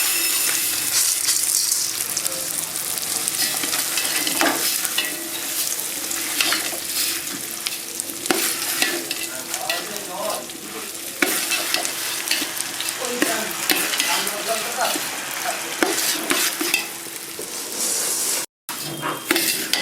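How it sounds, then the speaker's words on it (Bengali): Rice is tipped into a large pot of hot fat with cinnamon, cloves and cardamom for basanti pulao. A continuous loud sizzle carries repeated scraping stirs throughout, with a momentary gap near the end and no speech. "এবার দিয়ে দিচ্ছি আমি চালগুলো"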